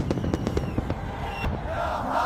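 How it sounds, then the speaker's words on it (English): Fireworks over Kuwait Towers during Kuwait National Day street celebrations, a rapid series of sharp bangs and crackles in the first half, then a continuous roar of the cheering crowd. "And the fireworks begin over the beautiful Kuwait Towers."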